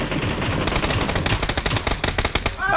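Automatic gunfire sprays in a PUBG match, rapid dense bursts of shots close and loud that rattle on for nearly three seconds with no speech over them.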